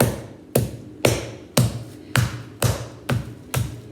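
A meat mallet taps breaded chicken eight times at a steady half-second rhythm, each strike a sharp, close thud with a short scrape as the mallet slides off the meat.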